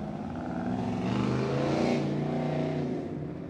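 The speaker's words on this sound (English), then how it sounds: "Well, there goes the E-Type." An E-Type car drives away from a cars-and-coffee meet at an IHOP in Corona, California, its engine note swelling to a loud, steady roar before fading as it pulls off.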